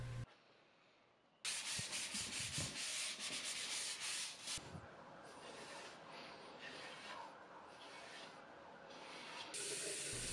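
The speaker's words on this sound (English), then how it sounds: "After doing a light sanding, and I mean light sanding" Light hand sanding of painted furniture before a coat of black paint, a dry, hissing scrape in long continuous strokes, close and fairly loud after a quiet opening second.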